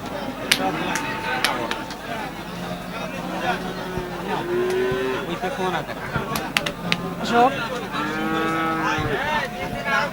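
Sahiwal cattle moo repeatedly at a busy livestock market, drawn-out lowing calls rising over crowd chatter, with nearby people talking and scattered knocks and clatter.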